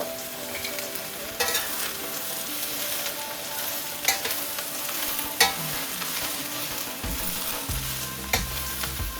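Mushrooms, zucchini and vermicelli-noodle stir-fry sizzle steadily in a hot pan as the vegetables are tossed, with intermittent scraping and clattering stirs over the continuous frying hiss.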